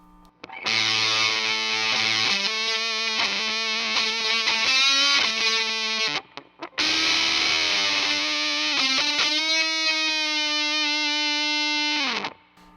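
Bright, buzzy Tone Bender-style fuzz guitar with the tone control at full treble, a sharp bee-like edge, sustained notes and bends in two long phrases separated by a short gap.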